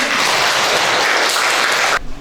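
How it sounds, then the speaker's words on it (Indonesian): Applause from a classroom of students fills the room, dense and loud for about two seconds before cutting off abruptly. "Tepuk tangan untuk Dani."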